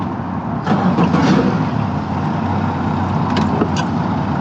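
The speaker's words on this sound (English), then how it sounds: "He's starting the engine." Boat engine starting at a dock, cranking and catching into a steady low idle rumble, close and loud, with brief knocks and clatter over the running motor.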